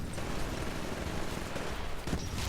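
Rapid automatic gunfire rattles from the PC video game Titanfall, a dense, continuous burst of muffled shots and impacts lasting a couple of seconds.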